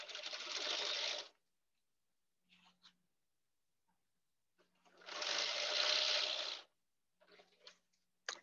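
A sewing machine stitches a Kimberbell tote bag lining in two steady runs of about a second each, separated by quiet pauses with faint handling clicks.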